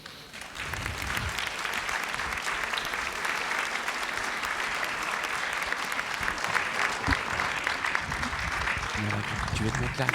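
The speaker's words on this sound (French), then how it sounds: "Voilà, si vous voulez bien l'applaudir." A theatre audience applauds a stage director at a talk about a play, sustained loud clapping throughout with some crowd murmur and scattered low thumps.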